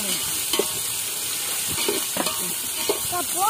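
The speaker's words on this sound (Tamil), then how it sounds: "பச்சை மிளகா நல்லா வதங்கினே வெங்காயம் போட்டு வெங்காயம் வந்து நல்ல சுருள வதங்கட்டும்" Green chilies and onion frying and being stirred in a pan, a steady close sizzle with scraping stir strokes throughout, no talking.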